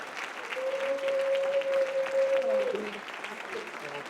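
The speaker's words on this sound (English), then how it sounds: "I'd like to do a big round of applause while you're standing for the youth that are here" A standing conference audience applauds the youth in attendance, steady crowd clapping at moderate distance with a sustained whistle-like tone and some voices mixed in.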